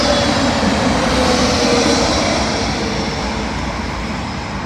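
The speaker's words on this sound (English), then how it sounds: "Arriving in now is an SAS Airbus A320neo from Stockholm to London Heathrow." An SAS Airbus A320neo arriving at London Heathrow from Stockholm gives a loud, steady broadband roar of jet engines that fades slowly as it passes, with no voices.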